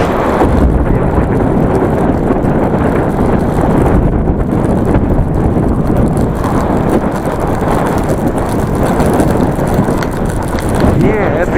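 Cold wind buffets the microphone while cycling downhill on a smooth road in Gansu, China, a loud continuous low rumble with no pauses.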